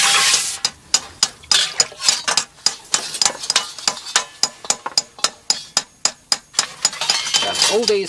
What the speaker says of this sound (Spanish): golpeando y modelando el hierro a altas temperaturas